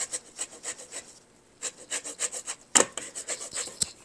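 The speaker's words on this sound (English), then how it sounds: "And now I'm going to add some zest of orange." An orange is zested for cookie dough, rhythmic scraping strokes that rasp in quick bursts, with a brief pause and a couple of sharper clicks, close and fairly loud with no voices.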